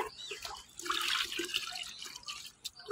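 Water mixed with soaked oil cake splashes and trickles as it is poured at the base of a guava tree, a gurgling stream lasting a few seconds, close by and moderately loud.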